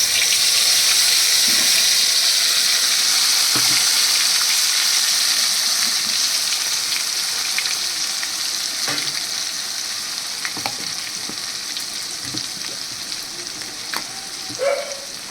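A paste of medium onion, green chillies and garlic sizzles steadily in a hot pan, a dense continuous frying hiss with occasional soft stirring knocks, close and loud, no voices.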